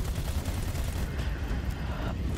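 Rapid bursts of weapon fire in the Overwatch 2 video game, dense and crackling over a steady wash of game noise, with no voices.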